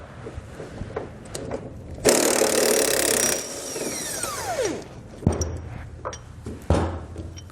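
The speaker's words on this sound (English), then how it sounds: "We're going to use a 21mm socket to remove the bolt." A power tool with a 21mm socket whirs loudly for about a second to back out a vehicle body mount bolt, then winds down, with a few clanks and metallic taps around it.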